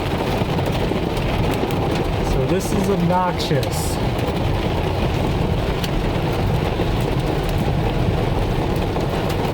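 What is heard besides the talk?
heavy rain on a car with thunder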